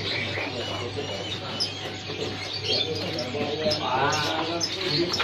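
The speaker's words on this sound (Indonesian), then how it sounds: "Dimas nah, nah, kalau ini yang Bali, perkutut Bali, ya beda harga ya 150 ribu." Bali zebra doves and other caged birds at a Jakarta bird market, scattered chirps and coos heard among the stalls, mostly under people talking close by, with a clearer trilling call near the end.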